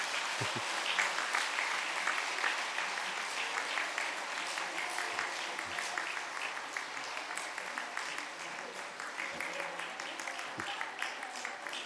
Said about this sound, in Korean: 박수로 크게 축하하시겠습니다